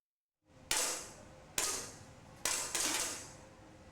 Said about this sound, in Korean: 보은중학교 실내 사격장에 총성이 울려 퍼집니다.